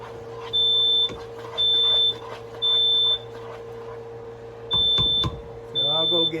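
A household smoke alarm beeps in a kitchen while molasses popcorn is being made, sounding five loud, steady tones of about half a second each at a regular pace, over a low background hum and faint kitchen noise.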